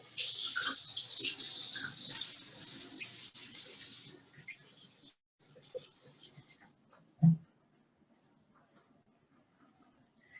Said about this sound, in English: I'm gonna wash my hands really quick before I put these in the oven.